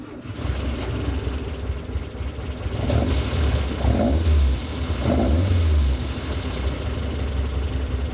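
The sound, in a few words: Volkswagen car engine revving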